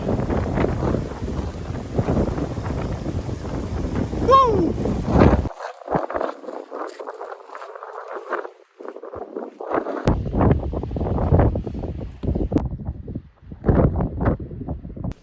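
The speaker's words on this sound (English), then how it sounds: "It's a little bit windy." Gusty wind buffets the microphone in loud bursts, dropping briefly before roaring back, with a person calling out over it, on a winter hike in the Peak District.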